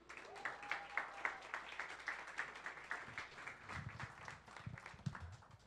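Quiet, sparse applause from a small audience at a French science-and-fiction evening, distinct rhythmic claps that come in pulses, with some low voices near the end.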